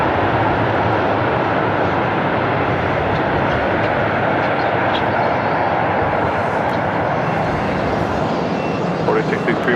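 Alaska Airlines Boeing 737-900ER arriving at LAX, a loud continuous jet roar filling the whole stretch, close and steady.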